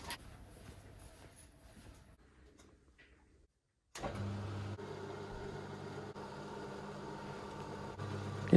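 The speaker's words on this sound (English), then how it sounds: "now I'm going to put them on my old milling machine to true them up" An old manual milling machine starts up after a quiet workshop lull, then runs with a steady motor hum and low grinding drone as it trues up hacksawed metal pieces.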